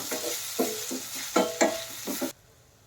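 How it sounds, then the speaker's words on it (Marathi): Fresh turmeric being stirred and sautéed in hot ghee in a pan: soft sizzling with several scraping stirs in an uneven rhythm, close by, ending abruptly. "ह्या तुपामध्ये आपण हळदीला परतून घेऊया, जसं आपण गाजर परतून घेतो सेम त्या पद्धतीने।"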